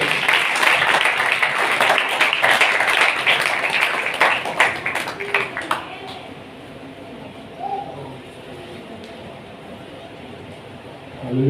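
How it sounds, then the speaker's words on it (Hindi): A church congregation at a Sunday service claps loudly to welcome the preacher; dense, enthusiastic applause fills the room for about six seconds, then fades into a quiet hall with faint scattered sounds. "खुदावंद के पाक कलाम को और खुदावंद के खादम को जोरदार तालियों से वेलकम करें"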